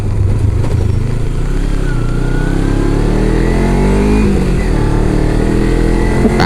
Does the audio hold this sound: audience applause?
no